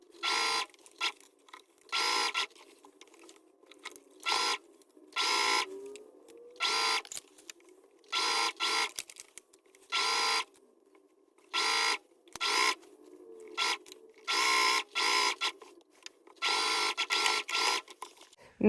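A sewing machine runs a straight stitch at 2.5 stitch length, seaming 1 cm from the edge all around an oval bag lining, in repeated bursts of fast mechanical whirring separated by short pauses, close and clear without talk.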